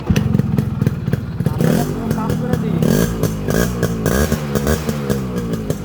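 A Yamaha RX 100 motorcycle in fresh condition idles with a loud, rapid, uneven two-stroke putter and occasional blips of revving. A voice talks over the engine.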